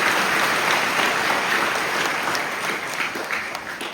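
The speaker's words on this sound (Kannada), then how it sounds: "ಅದರ ಸಲುವಾಗಿ ಎಲ್ಲರೂ ಜೋರಾಗಿ ಅವರಿಗೆ ಚಪ್ಪಾಳೆ ಹಾಕ್ತಾರೆ" Loud, sustained applause from a large audience at a religious discourse, steady dense clapping that eases slightly toward the end.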